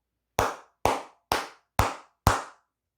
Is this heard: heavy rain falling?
no